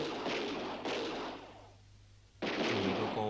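Gunfire from a Stephen Chow comedy film scene: two heavy, booming blasts, the second after a brief lull, each with a sharp crack and a rumbling tail, loud and close.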